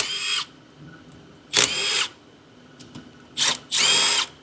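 A power tool spins out 13 mm bolts on a 5.3 L engine, with four short, sharp whirring bursts close by, separated by quiet gaps.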